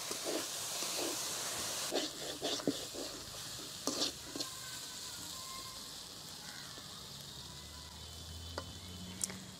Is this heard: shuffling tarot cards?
no